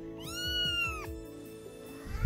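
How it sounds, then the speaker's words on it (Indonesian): A cat meows several times in close succession, with clear rising and falling cries, fairly quiet and alone. "Giliran Saru kucing ngeliat ya"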